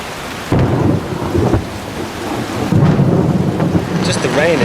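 Heavy rain beating down near a small tent pitched on rocky ground, with deep rolling thunder rumbling loudly in two long waves over the constant downpour.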